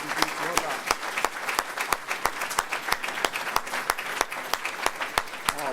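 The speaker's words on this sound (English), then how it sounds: "Let's give them a warm round of applause." An audience at a religious lecture applauds with steady, enthusiastic clapping that rises and falls slightly, sustained for several seconds.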